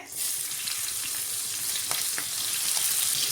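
Mustard seeds, cumin, asafoetida and chilli pieces fry in hot oil with a steady close sizzle and a few faint pops and crackles.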